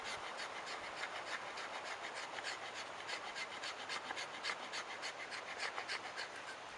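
Knife spine, on a custom knife made from a lawn mower blade, scraping fine shavings off wood for fire-starting: a steady, close rasping rub with repeated strokes and no talking.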